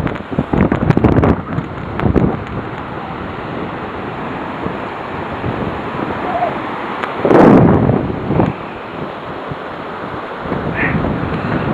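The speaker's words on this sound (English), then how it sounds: "I don't know how well you can hear because this is really windy now" Strong wind buffets the microphone in heavy gusts and rumbling bursts, with faint sounds of water underneath, recorded while standing on a barge near a waterfall.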